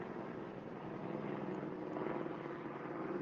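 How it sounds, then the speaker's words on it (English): Helicopter flying overhead, a steady droning rotor and engine rumble that swells slightly midway, continuous and moderately loud with no voices over it. "Waiting for that helicopter."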